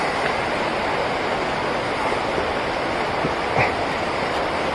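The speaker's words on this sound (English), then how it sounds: "Yes, guys, so we're at the waterfall" Maranum Falls in the Philippines pouring steadily, a dense continuous rushing roar of water close by, with no break and no one speaking.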